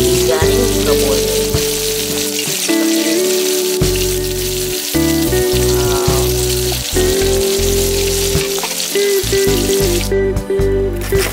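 Flour-coated sea catfish deep frying in hot oil, a steady, loud sizzle that runs throughout beneath background music with a bass line.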